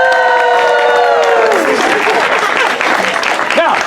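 An audience applauding and cheering at a Shakespeare show of Titus Andronicus, a loud dense wash of clapping and crowd noise, with a voice heard at the start and shouts under the applause.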